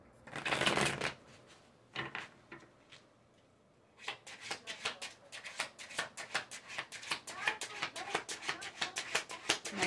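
Tarot cards are shuffled up close: a brief burst of riffling, a quiet pause, then a long run of rapid crisp card flicks and slaps in quick rhythm, with no one talking.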